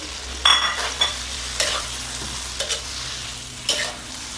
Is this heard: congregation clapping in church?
no